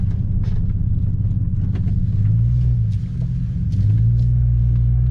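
A 24-year-old Chevrolet Silverado pickup engine rumbles steadily close by, deep and low, with a couple of brief rises in revs and faint clicks on top.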